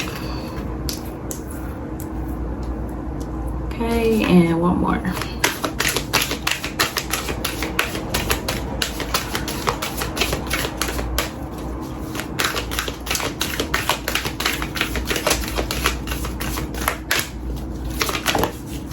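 Dense, rapid papery clicking and riffling from a deck of oracle cards being shuffled close by, continuing steadily, with a brief spoken remark early on.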